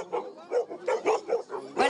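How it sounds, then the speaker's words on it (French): Assistance dogs barking on command, a quick run of about eight sharp, close barks with yips in an even rhythm, faint crowd noise behind. "Allez-y, faites-les aboyer."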